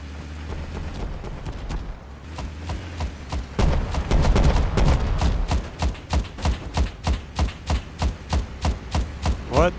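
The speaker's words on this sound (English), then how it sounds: "I hear some gunshots in the distance." Gunfire in the video game Rust: a long run of heavy, booming shots, irregular at first and then settling into a steady rapid rhythm, loud and dominant with no voices.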